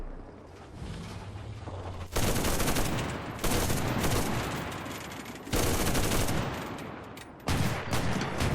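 A tank machine gun on a Panzer II C in Enlisted fires in long, loud sustained bursts, three or four extended strings separated by brief pauses.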